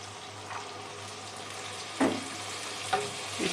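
Ojri fries in oil in a pan, a soft continuous sizzle with a low hum underneath, broken by a few sharp bursts of spitting and splashing as water is poured in for the gravy.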